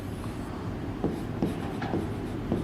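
Pen or marker writing on a surface, scratchy strokes in short separate bursts, close and fairly quiet over a steady low hum.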